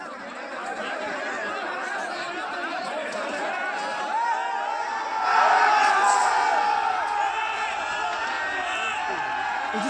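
An angry crowd of supporters gathers at the City Palace gate, a dense, steady wash of many voices that swells louder midway with scattered shouts.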